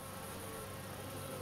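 Bees buzz inside a container where some are dying, a continuous dense drone with no break over the short stretch.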